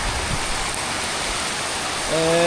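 Steady rain falls in an even, close wash of noise, and a brief voice sounds near the end.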